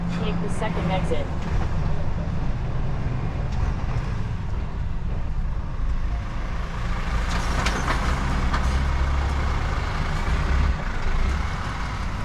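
A Scania truck drives on roads around Butzbach, Germany, its engine a continuous, close, fairly loud low rumble with road noise under it throughout.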